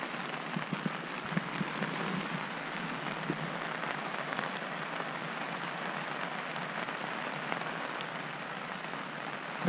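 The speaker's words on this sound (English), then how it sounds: "I thought we were going to have to relocate in this rain." Heavy rain drumming on a tent pitched on a mountain trail, a dense, steady hiss of countless drops continuing without a break, close and enveloping, with no voices.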